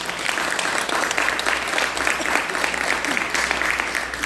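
An audience at a church class claps loudly and continuously in a dense, even wash of hand claps that fills the room for several seconds, with a few faint voices mixed in.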